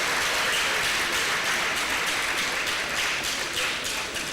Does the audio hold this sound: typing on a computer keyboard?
no